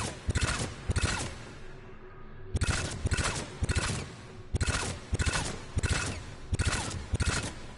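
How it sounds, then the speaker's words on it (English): Gun firing three-round bursts in Mass Effect 3, loud and close, in repeated clusters of sharp shots with a brief pause after the first few bursts. "the recoil from the gun's three-round bursts"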